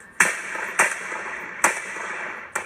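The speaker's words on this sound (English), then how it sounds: "take the sound of gunfire out of context" Four sharp gunshots ring out at uneven intervals during active shooter training, each a loud crack followed by a brief echoing decay.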